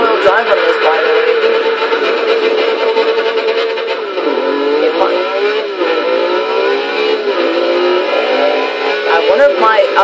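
A revving Alfa Romeo 33 Stradale engine in the Forza Horizon 2 racing game, climbing and dipping in pitch through gear changes and held loud and steady for about ten seconds beneath a person talking.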